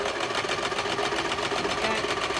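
A sewing machine stitches fabric for an upcycled sock monkey. Its close, steady rapid chatter runs without a break for the whole short stretch.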